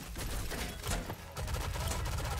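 Rapid gunfire bursts in the shooter game Rogue Company, fairly faint and crackly, in several clusters mixed with other game noise and a brief voice.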